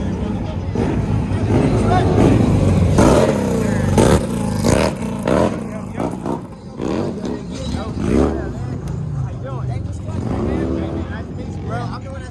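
A Road Glide Special motorcycle revs loudly and pops wheelies at a motorcycle club's annual meet and greet, with engine roars surging over steady crowd chatter and people talking nearby.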